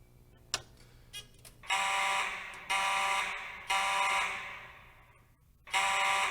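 A building fire alarm sounds during a manual pull station test, giving several loud, sustained bursts separated by short gaps over a low background hum.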